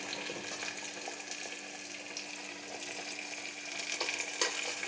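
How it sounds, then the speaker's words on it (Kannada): Peas frying in a pan for a peas curry make a soft, continuous sizzling hiss that swells slightly toward the end, with no voices. "ಈ ಥರ ಚೆನ್ನಾಗಿ ಫ್ರೈ ಆದಮೇಲೆ ವಟಾಣಿ ಹಾಕಿ ಅದು ಫ್ರೈ ಆಗಲಿ"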